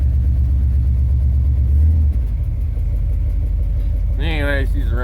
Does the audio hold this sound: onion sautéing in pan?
no